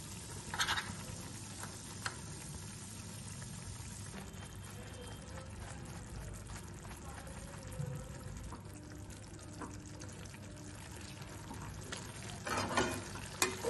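Ghee and garam masala sizzle quietly in a pan of Bengali shrimp malaikari made with coconut milk, a soft continuous frying hiss with occasional stirring clatter and scrapes.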